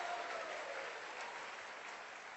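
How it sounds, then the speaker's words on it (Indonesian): Faint, steady clapping from a church congregation during a sermon by Pastor Gilbert Lumoindong, a soft continuous patter heard from a distance. "Tepuk tangan aja"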